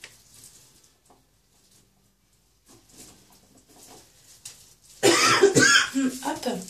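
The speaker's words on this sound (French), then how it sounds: "je tousse" A single sharp cough bursts out near the end of a quiet indoor stretch, close and fairly loud, after soft rustling and faint murmured sounds.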